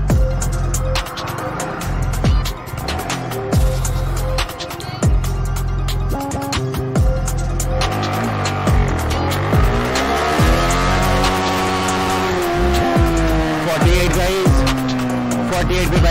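A Yamaha motorcycle accelerates hard in first gear, its loud, close engine note climbing in repeated rising sweeps before topping out around 48 km/h, with some talk in places.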